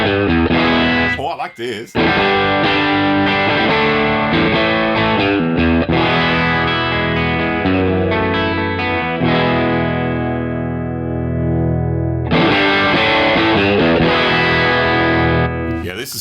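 Electric guitar played through a ToneX Silver Pro Dirty amp model, loud, sustained distorted chords and ringing notes with a short pause, someone briefly speaking over it.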